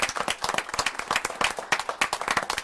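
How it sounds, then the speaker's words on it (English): A room of people at a city council meeting claps in a lively, continuous round of applause, many hands close together in a busy patter. "let's give Jan a big round of applause for her"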